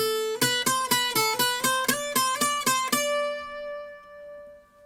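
A single course of a Tanglewood Roadster X TRX412CE 12-string acoustic guitar plucked repeatedly, about eleven even strums, bright and doubled with a phasing shimmer, then left to ring out and fade.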